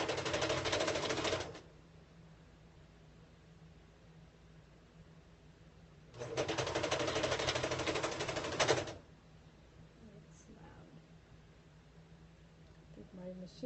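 A sewing machine stitches a skirt in two steady runs, one about a second and a half long and another near three seconds, with quiet pauses between them. The whirring sounds close and loud against a soft room background.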